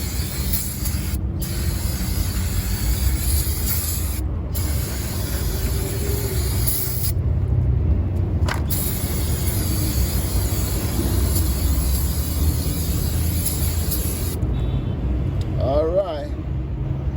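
Brake cleaner sprays onto the rear brakes of a Mercedes-Benz GLK 350 in a loud continuous hiss broken by a few short pauses, close up, while someone talks.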